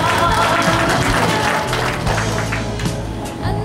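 An audience claps at a Lions Club zone meeting honoring a respected member, the applause loud and dense across a short burst, slowly thinning toward the end.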